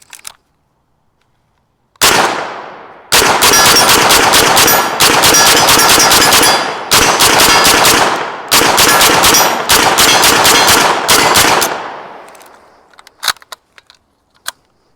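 An MKE AP5-SD with a faux suppressor firing standard 124 grain NATO ammo outdoors, loud close automatic bursts with short gaps between strings, then a few lighter clanks and clicks as it stops.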